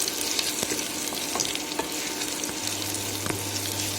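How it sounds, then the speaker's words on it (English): Hing is stirred into khandvi batter in a hot pan for this Gujarati dish. A spoon scrapes and taps in quick strokes over a soft, steady sizzle, close and alone. "Now finally we will add our hing and stir this really well."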